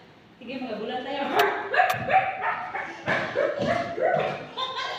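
A large dog barks and yips in a quick, uneven series of short, close sounds, with some whimpering, as people talk over it.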